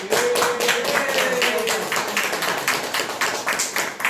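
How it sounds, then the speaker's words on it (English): A crowd applauds steadily, many hands clapping in a dense, continuous wash of claps that holds for several seconds. "Let's give a big clap"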